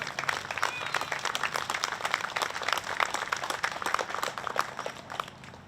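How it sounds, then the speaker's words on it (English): An outdoor crowd claps steadily for the all-city band at a Memorial Day ceremony in Lynn, a dense, even patter of many hands held at moderate loudness throughout. "A round of applause for these young men and women."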